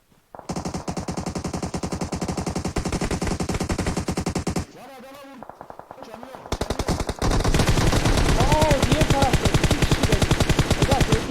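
Rapid automatic gunfire in PUBG Mobile, long loud bursts of fast shots with a brief pause in the middle, then heavier continuous firing to the end, with voices talking over it.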